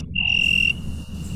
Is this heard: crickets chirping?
yes